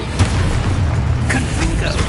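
Explosive spell blasts from the Hogwarts Legacy video game, a loud booming burst near the start followed by dense continuous rumbling and crackling combat noise, with a voice calling out over it.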